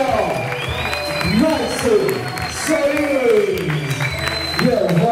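Audience applause and crowd noise at a bachata show, steady clapping running beneath a loud host voice talking and urging the crowd on throughout.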